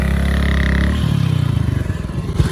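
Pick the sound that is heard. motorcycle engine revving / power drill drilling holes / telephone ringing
motorcycle engine revving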